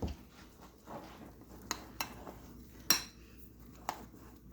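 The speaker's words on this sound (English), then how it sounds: "So I'm going to mix it together." A spoon stirs chopped onion into egusi in a metal pot, with sparse irregular clinks and scrapes of utensil against the pot, close by and moderately quiet over a low background hum.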